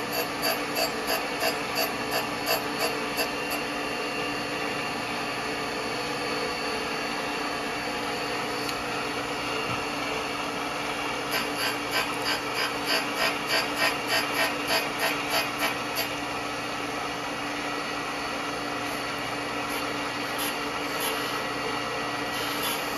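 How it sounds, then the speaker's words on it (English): A surface grinder works down raised plugs on a precision angle plate, giving a steady mechanical whir and hum with stretches of fine rapid ticking as the wheel passes over the plugs, continuous and moderately loud. "So these plugs are a little bit above the surface, so I'm grinding them off."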